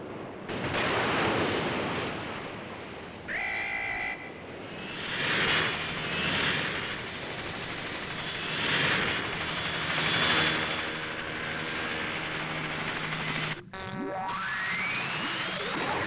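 An aircraft engine in the Cyborg 009 anime roars steadily and loudly with slow swelling surges, briefly cutting out before a rising whoosh near the end, with no voices.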